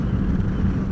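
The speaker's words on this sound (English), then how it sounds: "It's super windy out here right now" Heavy wind buffets the microphone while riding a Yamaha R1 motorcycle, a continuous low rumbling roar that fills the whole moment.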